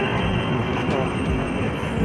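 A St. Petersburg metro train in winter rumbles steadily at close range, a continuous dense roar of rolling wheels and carriage noise with no talk over it.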